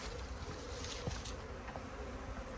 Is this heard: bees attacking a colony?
yes